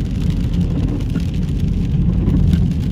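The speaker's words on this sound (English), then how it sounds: "It is pouring so hard right there." Heavy rain pours down during a drive through a thunderstorm at Big Bear Lake, California, a dense steady roar with low rumble from the car and wipers, loud and continuous throughout with no talking.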